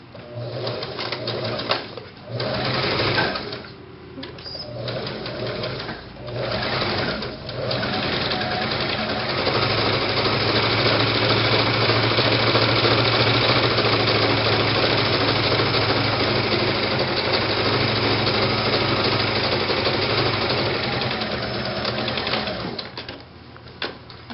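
A sewing machine runs a wide zigzag stitch on ruffle pants fabric, a steady close mechanical whir that starts and stops briefly at first and then runs continuously.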